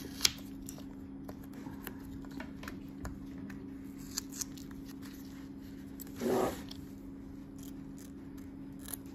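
Small fine-tipped scissors trimming excess organza fabric close to a mini zigzag stitch in embroidery, heard as scattered crisp snips over quiet background, with one louder rustling burst midway.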